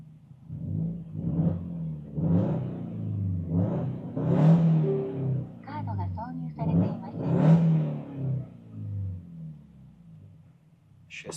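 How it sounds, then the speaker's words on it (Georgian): A Japanese-market Subaru WRX STI making over 300 horsepower, switched into sport mode, revs its engine in a series of rising and falling pulls over a steady low rumble, with voices talking over it. "შესანიშნავი ხმა აქვს ამ მანქანას თავისი კუბატურიდან გამომდინარე და Subaru-ს ეს არასდროს არ ეშლებოდა."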